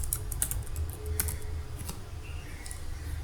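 Quick bursts of typing on a computer keyboard while entering a formula in an Excel spreadsheet, soft irregular clicks at close range with no one speaking.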